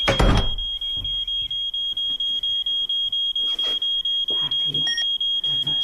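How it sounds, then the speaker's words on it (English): A home security alarm beeps in a steady, rapid repeating pattern, close and loud, before being switched off, with a sustained high electronic tone running underneath and a few faint sounds of someone moving nearby. "I only got 30 seconds to turn the alarm off."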